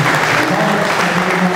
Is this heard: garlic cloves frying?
no